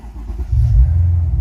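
A keyless-start Mercedes-Benz engine turns over and catches, settling into a steady low rumbling idle close by, with no voices over it.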